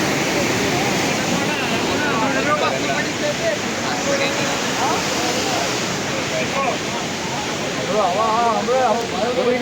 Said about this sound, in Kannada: ಇಂದು BC ನಾಲೆಗೆ ಹೋರಾಟದ ಫಲವಾಗಿ ನೀರು ಬಿಡಲಾಗಿದೆ